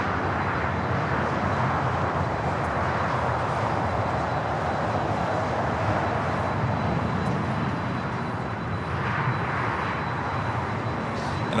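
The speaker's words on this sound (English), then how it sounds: "On the north side, Japan Airlines Dreamliner now short funnel for 24 right" Japan Airlines Boeing Dreamliner on short final to runway 24R at Los Angeles International Airport, a continuous broad engine rumble and rush that holds steady at moderate distance with no talk over it.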